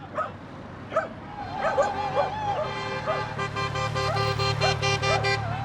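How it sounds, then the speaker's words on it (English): A dog barks and yips repeatedly nearby over a running engine's low hum, the barks growing more frequent and whiny. "So the dog's giving it some jip."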